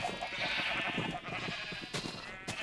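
Sheep in a video game bleat in a run of wavering, nasal calls, fairly close and clear with no talk over them, the last few calls coming in short bursts.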